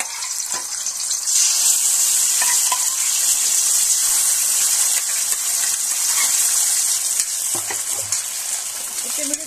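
Spices hit hot oil for a paneer dish, producing a loud, continuous bright sizzle and hiss up close, with a few faint clinks of utensils underneath.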